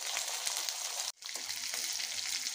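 Spiced packets of filling fry lightly in hot oil, making a soft, even, continuous sizzle that briefly cuts out for a moment before resuming.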